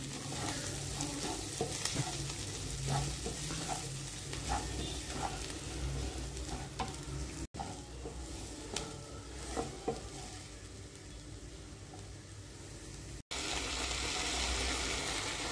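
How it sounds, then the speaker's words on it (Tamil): Vegetable masala for samosa filling being stirred and fried in a pan, with steady sizzling and repeated scraping strokes of a spoon close by, interrupted by a couple of brief cuts. "சேர்த்துட்டு இதை நல்லா மிக்ஸ் பண்ணிக்கலாம்."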